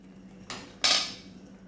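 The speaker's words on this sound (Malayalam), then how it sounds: "പുളി ഒഴിച്ചിട്ടൊന്ന് നമുക്കിങ്ങനെ ഇളക്കാം" Tamarind water for a rose apple pickle is stirred in a pan over a high flame: two quick metallic spoon scrapes ring out close against a quiet background.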